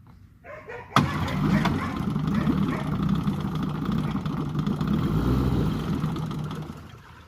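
A 1963 Evinrude 3 HP outboard motor is pulled into life and runs steadily at a fast idle, a close, continuous buzzing drone that holds unbroken to the end.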